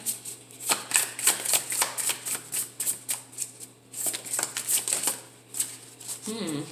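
Tarot cards being shuffled by hand, a run of quick crisp riffling bursts in an uneven rhythm, close and fairly loud, with a brief pause in the middle before the shuffling resumes.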